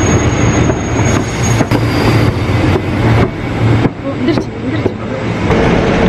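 A train pulls into Taman Mini station in Indonesia: a loud, steady rumble of rail cars with clattering wheels and brief high squeals, continuous and close throughout.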